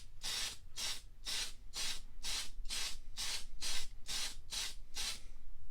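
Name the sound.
spraying aluminium-look spray paint on a car part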